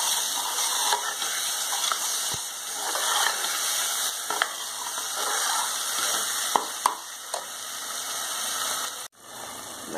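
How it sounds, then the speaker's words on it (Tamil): Masala powder sautéing in oil in a pot for traditional mutton curry, giving a constant close sizzle with scattered scrapes and taps of a stirring spoon. "இப்போ மசாலா தூள் சேர்க்குறோம் இதை பின்ன வச்சு கொஞ்சம் வதக்கிக்கிறோம்"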